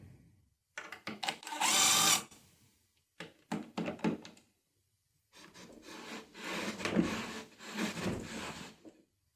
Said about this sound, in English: drive a screw through the pivot point and into the mark I've made on the plywood here